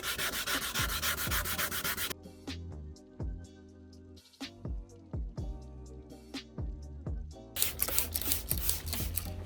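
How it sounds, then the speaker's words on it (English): Wet sanding of a 2012 GMC Denali headlight lens to strip stubborn clear coat: steady rasping strokes near the mic, with spray bursts at the start and end and sharp clicks and taps between them. "If you are wet sanding and you're spraying it as you're sanding"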